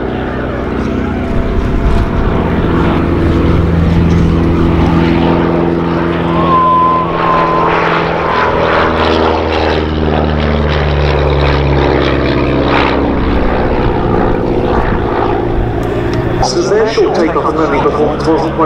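Auster light aircraft with a propeller engine flies over Duxford, a steady loud droning hum whose pitch shifts slowly as it passes, under continuous commentary from a man on the public address.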